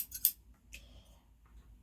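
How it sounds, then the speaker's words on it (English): A few crisp scissor snips, two quick cuts close together followed by a softer one, in a quiet room. "take your scissors."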